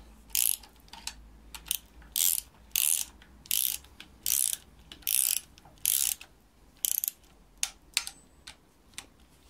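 A ratchet wrench tightening nuts during a double VANOS timing setup on a BMW engine: about eight bursts of loud, close ratcheting separated by short pauses, then a few lighter clicks.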